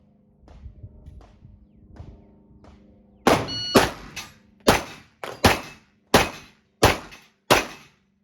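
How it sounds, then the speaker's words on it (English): A pistol firing Magtech CIP-spec ammunition during a DPM recoil system trial: several faint pops first, then seven sharp, loud shots spaced roughly half a second to a second apart. "So obviously the pistol worked just fine using the Magtech ammunition, the CIP spec."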